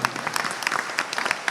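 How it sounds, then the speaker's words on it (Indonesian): An audience bursts into applause, dense rapid clapping from many hands, loud and close throughout with a faint crowd murmur beneath. "Tepuk tangan dulu Bapak Ibu."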